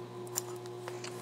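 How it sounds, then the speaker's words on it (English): Scissors snipping open a sewn fabric seam on a quilting design wall, a few faint, close crisp snips spaced irregularly over a steady low electrical hum. "I'm just being careful to basically cut the seam that I sewed"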